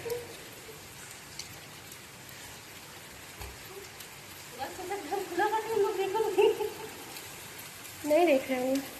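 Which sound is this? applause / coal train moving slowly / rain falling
rain falling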